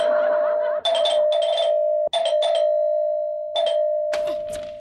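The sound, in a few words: doorbell ringing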